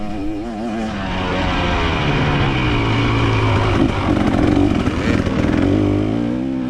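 Dirt bike motorcycle ridden in a hare scramble race, its engine droning steadily and rising in short bursts of revs, fairly close and loud with no one talking.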